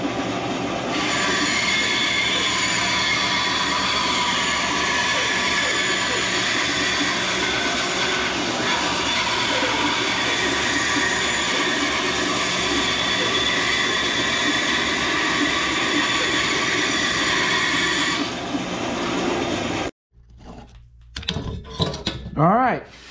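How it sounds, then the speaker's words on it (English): A bandsaw cuts a wooden bird feeder shape, a loud, steady whine and hiss with a rasping blade texture lasting about twenty seconds before stopping abruptly, followed by a few handling clatters. "we're going to do a quick cut out of this on the bandsaw"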